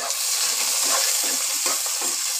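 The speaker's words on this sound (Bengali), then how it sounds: "পেঁয়াজ কুচিটাকে আমি হালকা বাদামি করে একটু ভেজে নেব" Chopped onions fry in a pan toward light brown, with a dense, close sizzle and soft rhythmic stirring scrapes repeating through the short stretch, no voices.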